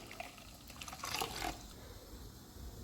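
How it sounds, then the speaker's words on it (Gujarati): About two litres of cold water poured into a bowl for pani puri water, a soft, faint splashing pour peaking briefly in the middle, close by with no talking. "તેમાં એડ કરશું 2 લીટર જેટલું ઠંડુ પાણી."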